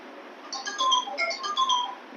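A mobile phone ringtone plays alone during a spiritual class, a short melodic run of bright repeating electronic tones at moderate loudness.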